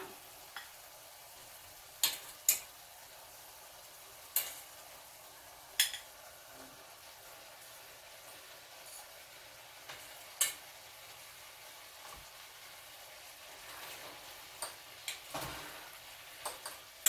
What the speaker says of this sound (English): Just incorporating the shrimp with the veggies.